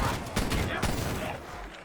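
Rapid bursts of gunfire from weapons in Black Ops Cold War Zombies, loud and dense fusillade with heavy thumps, filling the short stretch with repeated shots.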